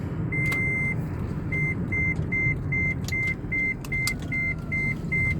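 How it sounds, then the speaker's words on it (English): A taxi pulls out of a gas station after refueling, its engine rumbling steadily at close range while a repeating electronic beep chirps in a regular rhythm over it. No one speaks. "So now I'm just pulling out of the gas station after filling up"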